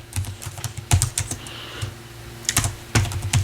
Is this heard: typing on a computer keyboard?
yes